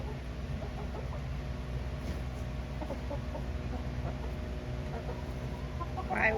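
Chickens cluck softly and intermittently in a coop over a steady low hum, the hens fairly close but quiet, with no one talking.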